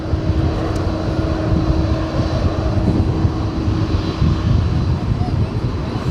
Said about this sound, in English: UPS flight 2954, 767-300ER